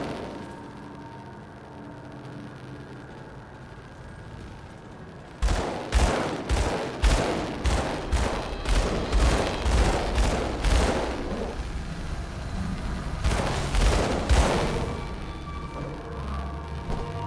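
Rapid dual pistol gunfire in the Grim Dawn action game, sharp repeated bursts that fire in a fast rhythmic string for several seconds, then a shorter burst, loud and up front after a quiet ambient stretch.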